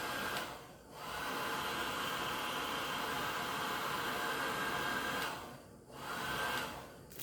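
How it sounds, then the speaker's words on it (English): A heat gun blows hot air to shrink plastic wrap around bars of black soap, a steady loud whooshing hiss that cuts off briefly twice and then starts again. "So what I do is I take my heat gun"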